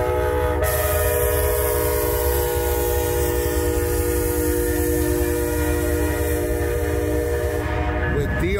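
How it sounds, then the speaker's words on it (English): The Amtrak Empire Builder departs Milwaukee with a loud, sustained multi-tone horn blast that holds for most of the clip over rumbling, clattering rail noise, then cuts off near the end. "Empire Builder 7 departing Milwaukee."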